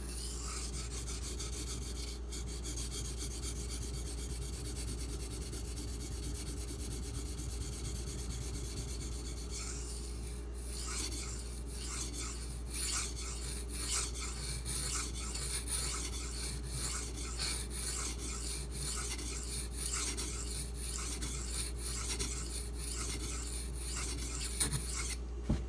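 A Marfione Custom Socom Elite knife edge is drawn repeatedly across a sharpening stone, producing steady close rasping strokes that continue without pause, loudest and most rhythmic in the second half, with no talking.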